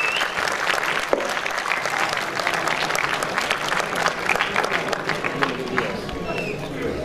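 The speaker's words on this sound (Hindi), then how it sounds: "बहुत सारी तालियाँ।" Audience applause at a Pothwari award show fills the room, steady dense clapping from a large crowd with scattered cheers over seven seconds, loud and close.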